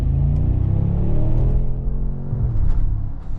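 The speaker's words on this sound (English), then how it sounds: "There are actual pops and bangs coming out of this exhaust system" A 2025 Mercedes-AMG G63 twin-turbo V8 accelerates in Sport Plus with a loud, steady deep exhaust rumble rising in pitch, with a few faint crackles near the end, heard from inside the car without talk.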